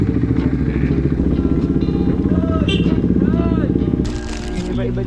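Adventure motorcycle engine rumbles steadily while riding, with wind buffeting and clatter on top and whistling tones passing through, the engine loud and close before easing slightly near the end.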